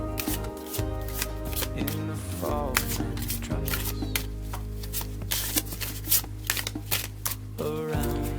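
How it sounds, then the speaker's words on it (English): A tarot card deck is riffled and shuffled close up in a rapid series of crisp flutters and taps, with a couple of longer riffles and bridge sounds, played alone and fairly loud. "Okay, so for the swords, we had 2, so we're going to shuffle twice."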